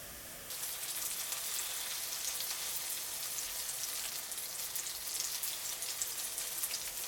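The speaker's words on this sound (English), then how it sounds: "When the oil is hot, put the eggplant rings." Stuffed eggplant rings fry in hot vegetable oil in a pan, giving a steady, close, rain-like sizzle that starts abruptly and then holds an even level throughout.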